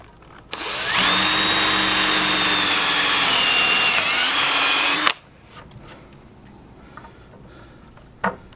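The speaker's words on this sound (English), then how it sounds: "I'm going to drill a hole, pre-drill a hole through this" A power drill whines steadily for about four seconds, pre-drilling a hole through metal, its pitch dipping slightly as it bites, then stops abruptly, followed by faint shop clatter.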